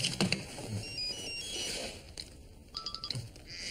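A mobile phone rings in an office scene from a German police series, giving repeated electronic ringtone beeps at moderate volume over low room background, without speech.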